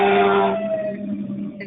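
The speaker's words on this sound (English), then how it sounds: "There's a siren going by for someone." An emergency vehicle siren passing outside during a civic meeting, a loud wailing tone that quickly fades and drops in pitch as it moves away, heard alone and briefly.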